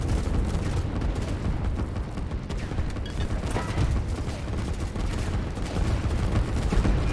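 Artillery fire in the Line War strategy game, a dense continuous barrage of overlapping booms and crackling shots, steady and loud throughout with no speech.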